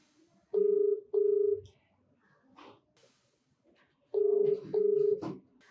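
Telephone keypad tones sound as a number is dialed for a call, two pairs of steady beeps separated by a pause, with faint background noise between them and a short voice at the end.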